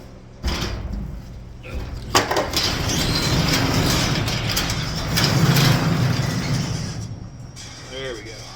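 Workshop door rolled open with a long mechanical rattle and scrape in a smoky welding shop, followed by a steady whir from a fan, close and fairly loud.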